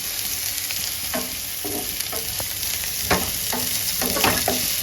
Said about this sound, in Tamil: வெங்காயத்தை சேர்த்துக்கலாம். சேர்த்து நல்லா வதக்கலாங்க.